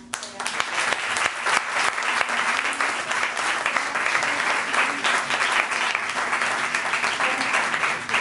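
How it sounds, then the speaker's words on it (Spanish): An audience applauds steadily after a public science talk, a dense, even wash of clapping that holds at full strength for the whole stretch without any speech over it. "yo creo que le agradecemos con otro aplauso a Adela"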